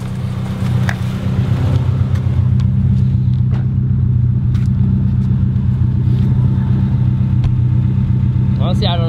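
Honda EK hatchback with a B18C5 engine on individual throttle bodies idling through an aftermarket exhaust, a loud, steady, deep rumbling drone close by with faint clicks and a brief sound near the end.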